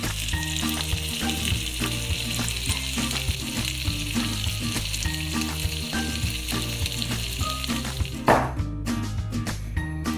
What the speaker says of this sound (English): We're going to melt some cheese on top of the burger.